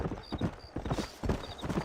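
Horse hooves in the Red Dead Redemption video game clop in a steady, loud, close rhythm, with a brief whinny mixed in and no talk over them.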